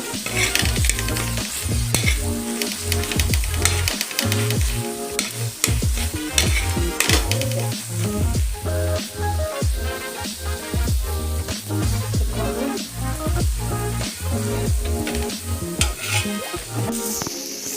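Pointed gourd and potato frying in a pan, with loud continuous sizzling and repeated scraping stirs of a spatula against the metal, close up and without talk.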